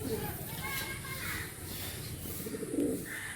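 Breeder pigeons at a Howrah pigeon sale coo in low, throaty bursts, one fuller coo swelling near the end, amid background chatter and children's voices.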